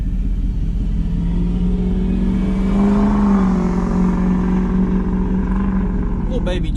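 A Ford 6.0 diesel engine idles loudly with a steady rumble, then revs and settles, a faint turbo whistle riding over the drone, heard up close with voices talking over it.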